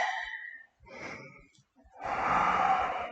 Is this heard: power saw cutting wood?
no